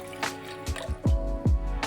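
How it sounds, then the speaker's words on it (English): Black tea poured into a cocktail shaker for an Arnold Palmer mocktail, a short liquid splash with a few dripping, gurgling bursts, close and fairly quiet, with no talking. "Let's kick this off by adding 2 ounces, that's 60 ml of tea to our shaker."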